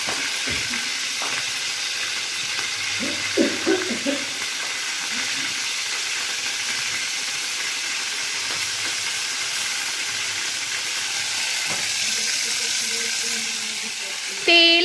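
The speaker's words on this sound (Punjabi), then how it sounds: "ਗਰਮ ਕਰਕੇ ਉਹਦੇ ਵਿੱਚ ਜਿਹੜੇ ਆਪਾਂ ਨਿੰਬੂ ਕੱਟੇ ਸੀਗੇ ਉਹ ਨਿੰਬੂ ਆਪਾਂ ਤੇਲ ਦੇ ਵਿੱਚ ਪਾ ਦਿੱਤੇ ਆ" Cut lemons fry in hot oil in a pan for homemade pickle, giving a constant close sizzle with a few stirring knocks and brief low voices near the start.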